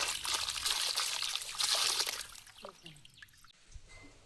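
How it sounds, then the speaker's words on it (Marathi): Mangoes rinsed in water by hand produce trickling and sloshing, loud at first and then fading into brief splashes and handling sounds near the end. "हे आता आंबे आपण व्यवस्थित धुवून घेऊया"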